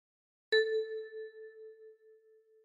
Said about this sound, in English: With your left thumb, pluck 6.